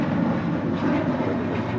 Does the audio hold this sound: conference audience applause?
no